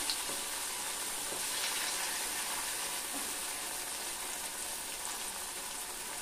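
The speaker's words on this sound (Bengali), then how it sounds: "চিকেনটাকে একটু ফ্রাই করে নিতে হবে।" Chicken pieces for Chicken 65 fry in hot oil, giving a continuous, even, hissing sizzle with no talk over it.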